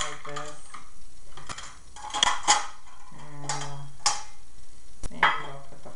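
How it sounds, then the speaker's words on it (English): Metal cooking pots clank and clatter as they are packed into a bag. Irregular knocks and ringing rattles come close and fairly loud over several seconds. "Maybe we'll put the pots in first like that."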